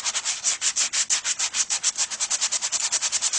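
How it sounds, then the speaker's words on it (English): Sandpaper rubbed briskly over a painted surface to distress it, a fast steady rhythm of close, loud scratchy strokes, about eight to nine per second, with no other sound. "And then I'm just going to sand this."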